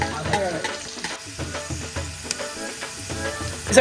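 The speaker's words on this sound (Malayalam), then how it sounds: "നമ്മുടെ ഇഞ്ചി വെളുത്തുള്ള എല്ലാം മൂത്ത് വന്നിട്ടുണ്ട്" Ginger and garlic fry in a pan for a fish curry, giving a close, continuous sizzle broken by quick scraping stir strokes, with no talking.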